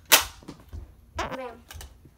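An orange Nerf blaster in the Reflex style fires one sharp, close snap at the start, followed by a person speaking.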